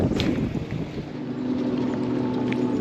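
Steady wind blows across West Point Lake at a bass fishing tournament, a continuous broad rush with low rumble and mic buffeting that stays loud and even throughout, with no talk.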